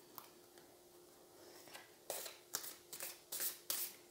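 Quick riffling and slapping bursts of oracle cards being shuffled, starting quiet then coming in several close, crisp flurries.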